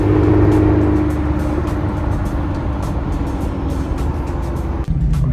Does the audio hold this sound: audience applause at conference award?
no